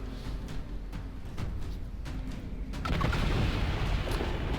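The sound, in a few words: explosion in video game Dragon Age: Inquisition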